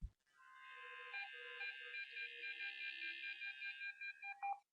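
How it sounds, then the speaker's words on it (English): A computer beep from a VB.NET Console.Beep call, a steady electronic tone sustained for several seconds, clean and alone against silence. "and it creates a beep sound."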